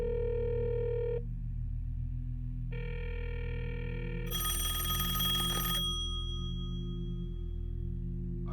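A telephone rings in a dark, mysterious scene from the film Mulholland Drive, two steady electronic tones broken by a short burst of bright ringing, faint and alone over a low constant hum.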